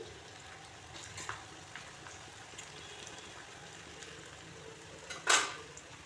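Half-crushed garlic dropped into onions frying in a pan, a soft steady sizzle with a faint clink and a sharp utensil scrape near the end.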